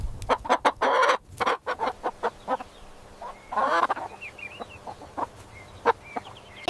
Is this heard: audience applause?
no